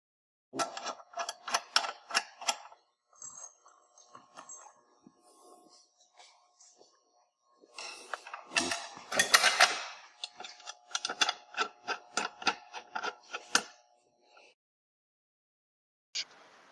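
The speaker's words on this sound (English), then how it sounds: "You're going to want to install the M8 bolts." M8 bolts being fitted to the external scraper of a Track N Go track, with rapid metallic clicking and ratcheting in bursts, small clinks and handling noises between, close and quiet.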